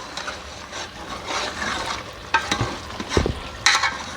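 Spinach and mutton for palak gosht being stir-fried in a pan, with steady scraping stirring strokes over a soft sizzle and a few sharper clacks of the spoon against the pan near the end.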